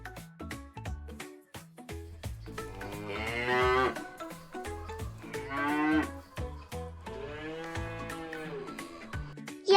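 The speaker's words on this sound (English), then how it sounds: "Yes, this is a cow." A cow on a farm moos repeatedly in long, drawn-out calls, loud and close, broken by short clicking or knocking sounds, with no speech.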